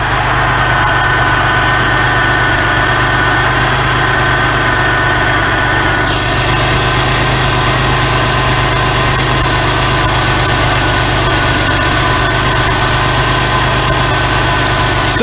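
A 1991 Oldsmobile Cutlass Ciera engine idling after a fuel injector replacement, a loud, steady, close mechanical drone with constant vibration and no talk.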